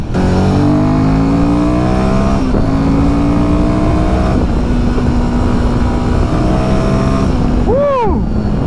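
A Royal Enfield Himalayan 450 motorcycle climbs through the gears on the road to Gangtok, engine note rising and falling with each shift, loud and continuous with steady wind rush, ending in a quick sweeping whine.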